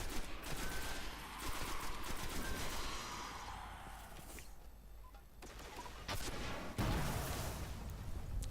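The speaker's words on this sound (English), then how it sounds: "Using my rocket launcher to make short work of him." Weapon fire in the video game Destiny, including a rocket launcher, comes as sustained rapid bursts and crackling blasts with a heavy boom near the end, loud and dense throughout.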